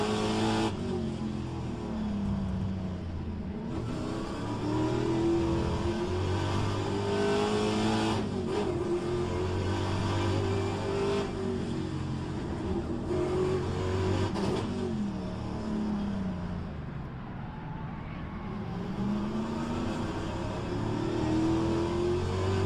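Trans-Am race car in the rFactor 2 racing game, its engine revving hard and steadily through a corner exit with rising and falling pitch, loud and continuous throughout.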